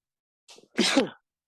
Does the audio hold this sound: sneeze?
yes